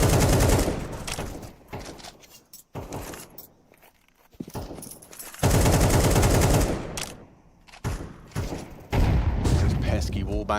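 AK rifle fire in Counter-Strike 2 comes in dense, loud bursts, with wall-bang shots punching through cover and brief pauses between volleys.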